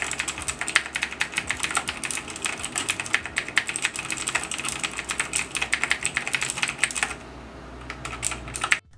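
Rapid, steady clacking of mechanical switches on a Razer BlackWidow Chroma keyboard being typed on, close and fairly loud, continuous for most of the stretch before stopping abruptly.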